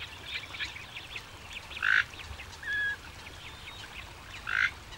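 A purple swamphen (Porphyrio porphyrio) in a coastal wetland gives three short, nasal honking calls spaced apart, moderately close over a soft background hiss.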